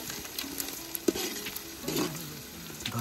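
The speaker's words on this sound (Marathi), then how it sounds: "कांदा फ्राय करता करता ह्याच्यामध्ये आपण खडे मसाले टाकले" Onion frying in oil with whole spices such as bay leaf, cinnamon, star anise and black pepper, sizzling steadily while a spoon scrapes and stirs the pan, close and clear with no talk.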